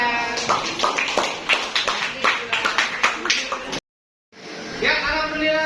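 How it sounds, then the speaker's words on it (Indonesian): Classroom applause after a group presentation, irregular claps from a small crowd with voices mixed in, broken by a brief silent gap before clapping resumes. "Sekali lagi tepuk tangan."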